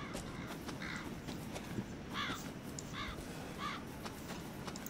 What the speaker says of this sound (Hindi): कहाँ है ये कौवा